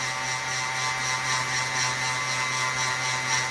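A small rotary drill bores holes into polished labradorite cabochons, giving a steady whirring motor tone with a faint grinding edge, continuous and close, with no talking.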